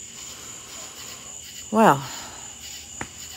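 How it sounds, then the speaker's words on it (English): Crickets chirp steadily in the background outdoors at night in a rural woodland setting, a faint continuous high trill under a brief spoken word and a soft click. "you'll hear the frogs and the crickets and everything else that you hear here in our neck of the woods"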